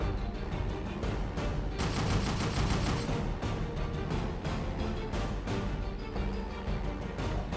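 Continuous Minecraft modern-warfare battle noise with dense machine gun fire and bomb blasts, loud, rapid and unbroken, with bursts overlapping throughout.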